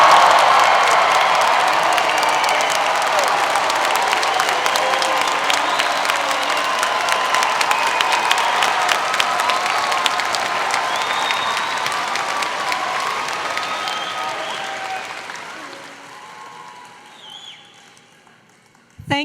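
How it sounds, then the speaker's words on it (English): Families and friends at a computer science and engineering graduation celebration clap and cheer for the graduates, loud sustained applause mixed with shouts and whoops that gradually fades toward the end. "Express how proud you are of your graduates by clapping and cheering"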